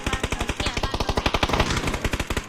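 Rapid automatic gunfire in the battle-royale video game PUBG, a fast, loud, evenly spaced burst of shots that runs for about two seconds with a brief stutter midway.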